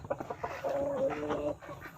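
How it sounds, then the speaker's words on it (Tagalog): A tall Shamo Asil chicken in a backyard flock gives a short run of low, throaty clucks, close by and fairly soft, with a brief drawn-out call in the middle. "Shamu Asil mga ka-backyard. Tignan nyo naman kung gaano katangkad ito."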